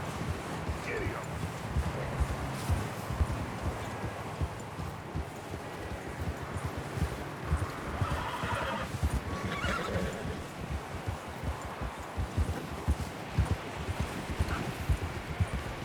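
A horse in the video game Red Dead Redemption 2 gives a loud whinny over steady clip-clop hoofbeats and wind, with rustling in the background and someone talking at points.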